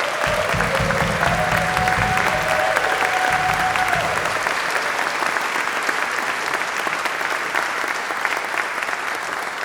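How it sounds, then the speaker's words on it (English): Concert audience at a community band spring concert breaks into loud, sustained applause, a dense wash of clapping that carries on steadily from start to finish with no voices rising above it. "We're going to give you one big round of applause."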